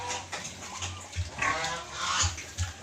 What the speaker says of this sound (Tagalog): Papakain na ako ng aking mga alagang baboy.